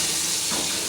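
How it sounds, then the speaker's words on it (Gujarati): Chickpeas being tempered in hot oil, giving a steady, bright sizzling hiss that stays close and even for the brief moment. "મસ્ત મજાના ચણા વઘારાય છે."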